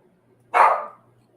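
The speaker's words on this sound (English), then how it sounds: "And there's the dog barking." A single dog bark, fairly close and clear, breaks an otherwise quiet indoor room and fades out quickly.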